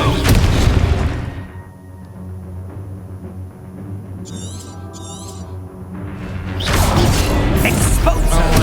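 A Confringo explosion spell in a video game goes off with a loud booming blast, fades into a quieter stretch with a couple of brief chirping effects, then erupts again into a second heavy, crashing roar.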